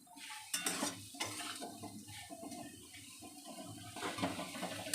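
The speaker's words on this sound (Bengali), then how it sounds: "লঙ্কাটা দেওয়ার পরে আবারও বেশ ভালোভাবে নাড়িয়ে নেব" A spoon scrapes and clinks against a pan while vegetable curry with green chilli, potato, eggplant, papaya, yardlong beans and prawns is stirred, giving irregular clattering strokes close by over a faint sizzle.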